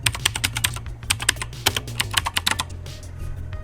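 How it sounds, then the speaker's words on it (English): Rapid typing on a computer keyboard, entering a search query, with quick irregular bursts of clicky keystrokes close by and no talking. "let's hit that search bar again and we will type in Office 2021"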